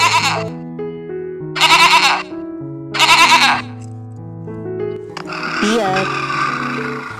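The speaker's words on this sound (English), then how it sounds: "goat" Goat bleating in three loud, wavering calls in close succession, each about half a second to a second long, followed by a rougher, noisier cry near the end, with a steady music bed underneath throughout.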